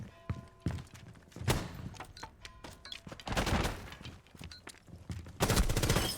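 R4C rifle shots in a Rainbow Six Siege match replay, sharp bursts of gunfire in several clusters with quieter clicks and footsteps between them.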